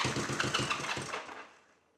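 A 1972 Honda CB350 motorcycle engine cranks with a choke on, giving a rapid rhythmic chugging for about a second that then fades out without catching.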